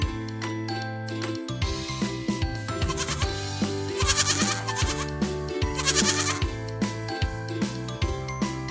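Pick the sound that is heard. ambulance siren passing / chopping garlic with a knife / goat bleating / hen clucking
goat bleating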